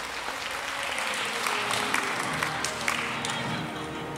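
Sustained crowd applause fills the room at a women's gala, steady and dense with a few sharper claps rising out of it, moderately loud and continuous throughout.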